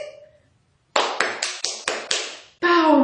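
Six crisp hand claps ring out one after another, evenly spaced, closely miked and loud, then a child-friendly musical note rises at the end.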